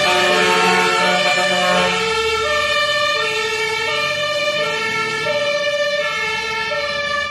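A toy fire truck siren wails steadily, close and loud, its electronic tone rising and falling in a repeating pattern.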